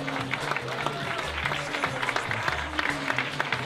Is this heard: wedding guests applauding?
yes